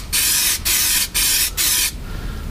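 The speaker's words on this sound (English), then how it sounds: "Let's just spray a bit and see what happens." Three sharp bursts of Hammerite body seal aerosol being sprayed onto a car boot floor, loud close hisses separated by short pauses, ending in quiet.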